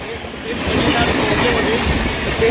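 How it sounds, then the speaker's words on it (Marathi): A passing train gives a steady, loud rumbling roar with a faint rhythmic clatter that stays constant throughout, while a voice speaks over it. "आली आली याची ट्रेन बघू शकता तुम्ही"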